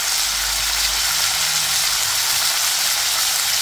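Ivy gourd (tindora) fries in oil with salt over a high flame, giving a continuous bright sizzle that stays loud and even throughout, with no talking.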